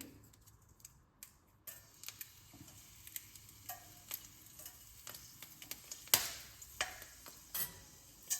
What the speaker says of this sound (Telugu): ఇదిగోండి, తిరగమాతలోకి ఒక మిరపకాయ వేస్తున్నానండి